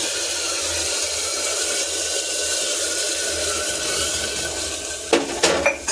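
Water poured into a pan of fried rice and lentils, a steady rushing stream followed by a few sharp clinks and knocks of cookware near the end.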